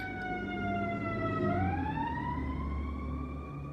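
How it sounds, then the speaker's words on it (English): A wailing siren sweeps down and then up in pitch, loud and continuous over a low traffic rumble, played as wrestlers' entrance music at a WWE Raw event. "Sirens."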